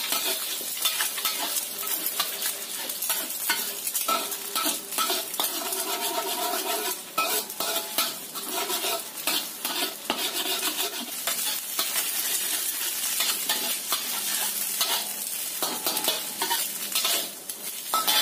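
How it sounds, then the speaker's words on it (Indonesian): Scrambled eggs sizzle steadily in a hot pan while a utensil scrapes and stirs against the metal, close up and continuous. "Kita bikin goreng orak-arik."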